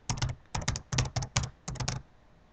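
Keys on a computer keyboard clack in quick clustered bursts as an email address is entered, crisp and close with brief pauses between groups of keystrokes.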